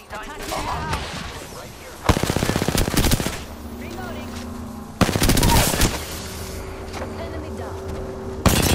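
Bursts of rapid machine-gun fire from enemies in a squad-based shooter video game, two long loud volleys separated by quieter stretches, with a third starting at the end.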